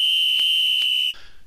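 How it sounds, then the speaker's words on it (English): A station master's shrill, steady whistle blast at a railway station holds one high pitch for about a second, with two brief breath pulses, then stops abruptly. "The station master waved a green flag and blew his whistle"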